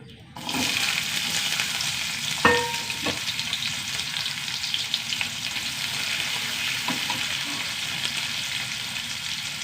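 Five or six small shallots, sliced into rounds, sizzle in hot oil in a pan, a steady crackling hiss starting abruptly and running on evenly, with a few clinks of a utensil.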